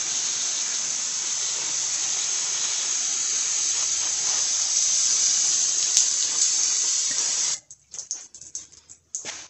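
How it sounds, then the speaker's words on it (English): Brake cleaner sprays in one long continuous hiss onto a 2008 Buick Lucerne front wheel hub during a wheel bearing replacement, close and steady for about seven seconds before breaking into short sputtering bursts. "I'll douse it all in brake cleaner."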